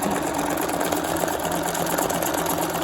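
A sewing machine stitching fabric as a continuous close whirring hum with a rapid mechanical needle rhythm, steady throughout and unbroken by talk.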